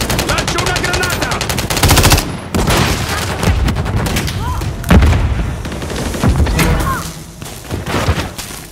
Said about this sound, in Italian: Lancio una granata!